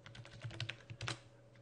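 Quick bursts of keyboard typing, a short run of keystrokes at close range over a low steady hum.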